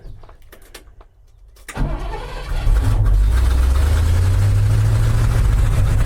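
An old dump truck engine with the choke pulled out cranks briefly, catches and rises into a loud, steady, rumbling idle that continues close by.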